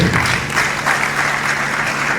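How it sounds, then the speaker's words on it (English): A conference audience at a Delta State small-business summit applauds after a presentation, giving a brief, steady burst of clapping that fills the moment without talk. "a round of applause for him."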